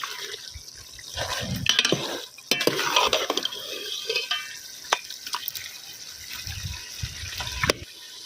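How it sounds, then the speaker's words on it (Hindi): Mutton being stir-fried bhuna-style in a pot for pulao, with close, steady scraping and stirring against the metal, wet sizzling and clinks of the utensil, and no talking. "अब इसके बाद हम इसकी अच्छी तरीके से बुनाई करेंगे।"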